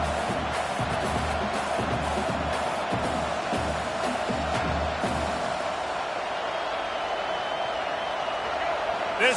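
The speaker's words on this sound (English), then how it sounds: "This crowd trying to make life miserable for this offense." A college football stadium crowd roars in a dense, continuous wash of noise, loud and unbroken throughout, with a commentator talking over it for the first half.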